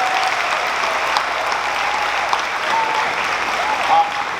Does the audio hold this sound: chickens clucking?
no